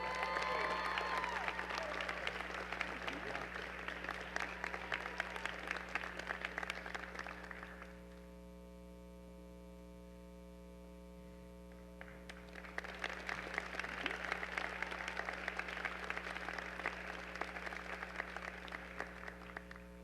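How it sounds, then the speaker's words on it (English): Applause for medical school graduates at a university hooding ceremony, broad steady clapping that swells, dips to a quieter stretch mid-clip, then rises again over a constant low hum. "Round of applause for all of our graduates."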